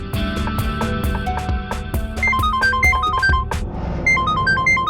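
A mobile phone rings with a repeating electronic melody of bright tones over background music, close and steady, with no voices.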